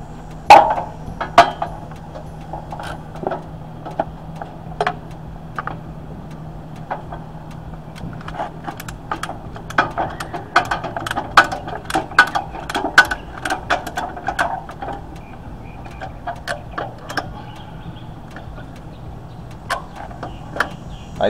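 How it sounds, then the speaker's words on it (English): Heavy-duty ratchet straps being cranked tight over the front tires of a Can-Am Spyder on a Stinger trailer, a run of quick clicking ratchet strokes and rattles at close range, no talking. "we'll use these heavy-duty straps here to lock the front tires in"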